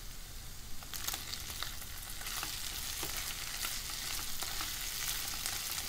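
Boiled potato pieces sauté in a pan with a steady crackling sizzle, dotted with quick sharp pops and light stirring scrapes throughout.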